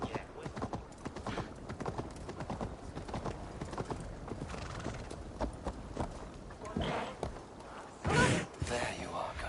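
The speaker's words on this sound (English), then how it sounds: "Stop that horse!" Rapid hoofbeats clatter in a quick galloping rhythm, with a horse neighing sharply near the end amid game effects in Assassin's Creed Valhalla.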